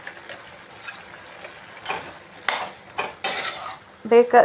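Green pea gravy bubbles in a pan on the stove, a soft simmering sizzle with spoon stirring and scraping that builds to louder clinks of a utensil against the pan near the end.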